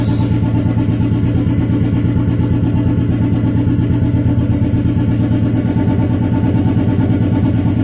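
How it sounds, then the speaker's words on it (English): Royal Enfield 350/500 cast iron single-cylinder engine revving at high RPM, a loud, steady, rapid mechanical thrum that holds constant throughout with no talking. "Now the RPM is high."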